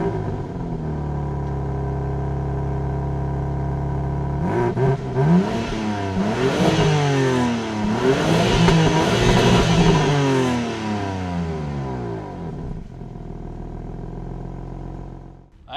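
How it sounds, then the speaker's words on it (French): A BMW engine cranks and fires at about four seconds, then revs up and down several times in strong rising and falling sweeps before settling to a steady idle; close and loud, with no talking. "Démarrage, bruit du moteur."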